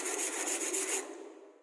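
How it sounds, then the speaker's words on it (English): A steel wire brush scrubbing slag off a weld in a welding shop: a harsh, rapid back-and-forth scratching for about a second, then trailing off, close and alone. "after that it is called steel wire brush"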